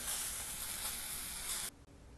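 Pork sears in an oven-safe pan, giving a loud, steady, bright sizzle that cuts off abruptly near the end, leaving a faint quiet background.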